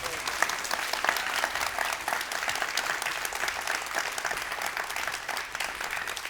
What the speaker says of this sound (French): le public, il est là pour regarder et puis applaudir